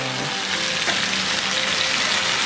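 Pork sizzles and crackles steadily in a hot pan, a close, constant frying hiss with no talking.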